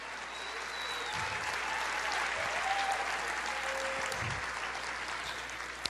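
A church congregation applauds the Lord during a worship service: a dense, continuous wash of many hands clapping at once, steady and fairly distant, holding level for the whole stretch with no distinct voices on top.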